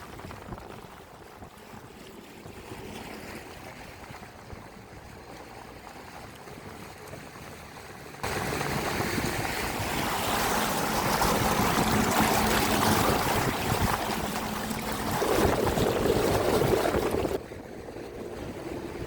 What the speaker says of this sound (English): I recorded this video on a very windy day, which caused the water to be a little bit on the rough and choppy side